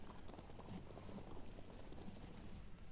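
Galloping hooves of horse archers in the strategy game Field of Glory II, a dense, continuous clatter of many hoofbeats at a low, even level.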